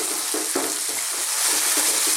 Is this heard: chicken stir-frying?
yes